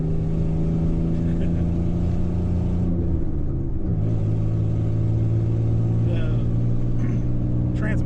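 A Danger Ranger build car with a Bumblebee exhaust rumbles steadily on a road test, its low engine tone briefly dropping and shifting pitch midway, then settling back into a continuous drone as it drives on.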